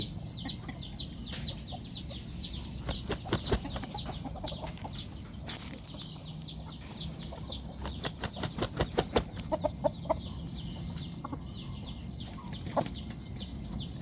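A young Burmese game rooster clucks and shuffles nearby, with bursts of wing flapping and scattered bird chirps over a steady outdoor hiss.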